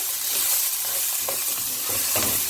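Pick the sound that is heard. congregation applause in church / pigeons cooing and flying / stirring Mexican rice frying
stirring Mexican rice frying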